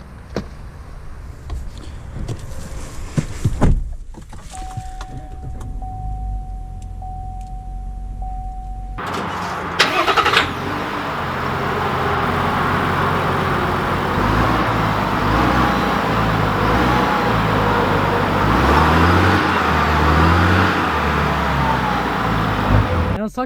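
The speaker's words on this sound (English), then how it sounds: "let's take this AT4 with the Duramax out to see how it drives" A GMC Sierra 1500 AT4 Carbon Pro pickup with the Duramax diesel starts up, with a click and a whirr before the engine fires, then settles into a steady drone of driving and road noise that continues to the end.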